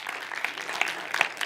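Audience applause during a church sermon, scattered hand claps from a smaller crowd, fairly light and uneven over a short stretch.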